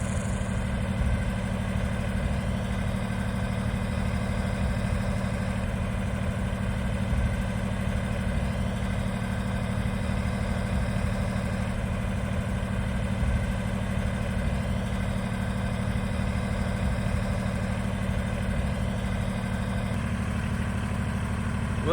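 A small Kubota B tractor engine runs at a steady idle, a constant low mechanical drone with light vibration, moderately close and uninterrupted, with no talking.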